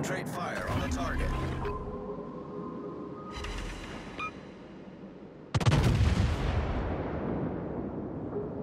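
Naval gunfire in a warship video game aboard the battleship Agir, with booming salvos and long rumbling tails. A heavy blast lands near the start and a louder, sharper one about midway, with a game voice speaking over it.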